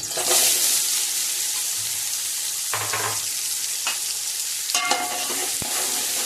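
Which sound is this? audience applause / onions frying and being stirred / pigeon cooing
onions frying and being stirred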